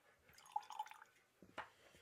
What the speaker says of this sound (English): Let's add a little tiny water and see